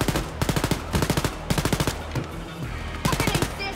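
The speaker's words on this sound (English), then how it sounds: "I'm just emptying my pistol now" Pistol fire in Wolfenstein: Youngblood, a loud rapid string of shots in four bursts with brief gaps between them, up close and over background game sound.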